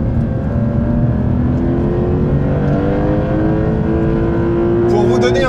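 A 2026 Porsche 911 Turbo S in Sport Plus mode accelerates hard on a fast race circuit, its engine note climbing through the gears as rising tones, loud and close, with a short gear-change burst near the end.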